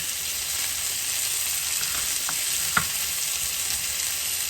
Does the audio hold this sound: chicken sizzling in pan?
yes